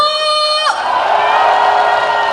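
An audience at an invited concert during a herbal medicine festival in Sancheong claps and cheers. A high tonal note cuts off, then a steady, loud wash of crowd noise fills the rest.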